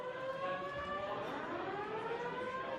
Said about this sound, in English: The fire alarm goes off literally right before bracket was supposed to start